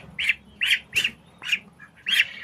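A duckling squawking while being held, five or six sharp, close calls in an uneven rhythm over a quiet background.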